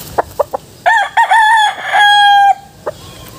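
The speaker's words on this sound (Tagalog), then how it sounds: "Matangkad na manok," A rooster crows loudly and close by, one long drawn-out call preceded and followed by a few short clucks.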